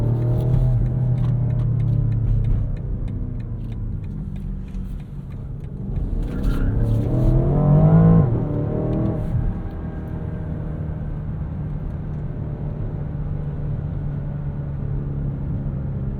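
A 2023 BMW Alpina XB7 SUV engine drones steadily from inside the cabin, rising into a revving surge of acceleration around the middle before settling back to a constant loud road rumble.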